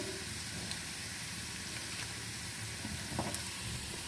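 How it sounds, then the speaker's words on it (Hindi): Steady crackling sizzle of spices frying in hot oil over a low flame as a tempering for dal gosht, continuous and close, with a few brief sharper pops. "लो पे अच्छा सा तड़का तैयार करेंगे।"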